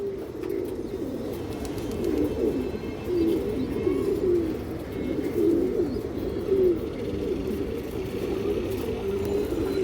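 A crowded loft of high-flying pigeons, including black-winged birds, coos steadily and close at hand, with dense, overlapping throaty calls that continue for the whole stretch without a break. No one speaks.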